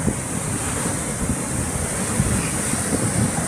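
Rough surf breaking on the shore at Peñas, Michoacán, Mexico, with strong sea breeze; a steady, loud roar of waves with wind buffeting the microphone throughout, no voices.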